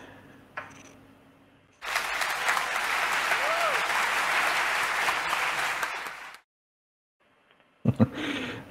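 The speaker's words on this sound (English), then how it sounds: "So let's play the applause." Recorded applause plays after a conference talk on Python and C/C++ data structures, a steady, dense clapping that fills about four and a half seconds and then cuts off abruptly, with brief talk before and after.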